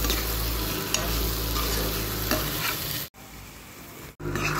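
Potatoes for potato masala sizzle steadily in a hot pan while a spoon scrapes and stirs through them, loud and close, with two brief cuts in the sound.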